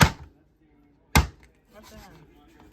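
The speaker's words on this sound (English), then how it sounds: "So chop them up in some small pieces." A knife chops pigtail into small pieces for stew peas, giving two sharp, close strikes about a second apart, followed by softer handling and rustling sounds.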